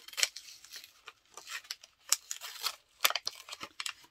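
A scrapbooking package being opened, with short crisp snips and crinkling plastic packaging in a quiet room, a series of close, fairly soft irregular cuts and rustles.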